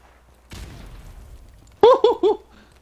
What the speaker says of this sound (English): Oh, grenade. He just threw it.